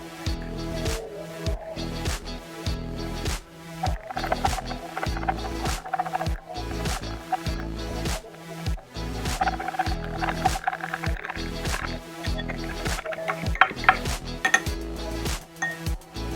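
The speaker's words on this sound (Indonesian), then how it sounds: "Lalu kita aduk menggunakan batang pengaduk sampai larutan homogen." Glass stirring rod clinking rhythmically against a glass vessel while stirring a detergent water solution, steady quick taps and scrapes repeating throughout, fairly close and clear.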